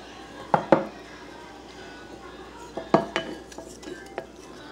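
Broccoli crust dough being mixed with psyllium husk and salt in a bowl, two pairs of sharp utensil clinks and scrapes against the dish separated by quiet pauses, then a lighter tap at the end.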